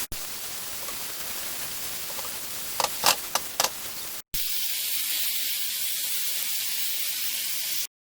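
Minced beef sizzles loudly in a hot pan as it is stir-fried with holy basil and dark soy sauce, a steady bright hiss broken by a few sharp crackles, then a gap and a second steady stretch of frying.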